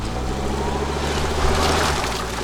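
A SsangYong car's engine running with a steady low drone, close and moderately loud, with a brief rise in intensity partway through and no speech.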